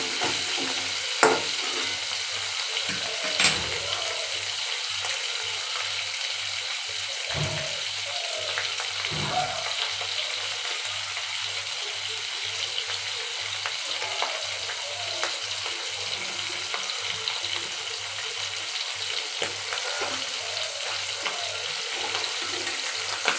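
Hilsa fish frying in oil gives a steady, moderate sizzle throughout, with occasional soft clinks and scrapes of turning the pieces.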